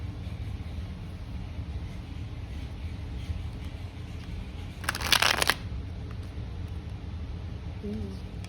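Tarot or oracle cards shuffled by hand during a pick-a-card reading, a brief crisp riffle of card stock lasting about half a second over a low steady room hum.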